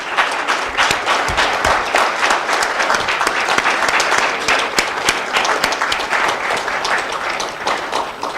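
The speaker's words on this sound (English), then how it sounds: "Je voudrais des applaudissements pour cette équipe" Sustained applause from a conference audience for the event's organizing team, steady dense clapping with a few sharper individual claps standing out, filling the whole stretch without talk.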